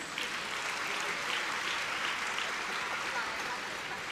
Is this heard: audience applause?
yes